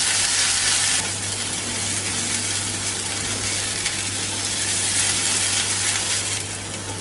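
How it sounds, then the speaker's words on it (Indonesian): Ground spice paste sautéing in a pan sizzles and crackles continuously at close range, a dense frying hiss with faint stirring and a steady low hum underneath. "setelah ini kita akan tumis bumbunya sampai benar-benar wangi banget dan"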